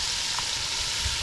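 White bass fish frying in reused grease, a steady close hiss and crackle of sizzling oil with faint stirring movements, no talking.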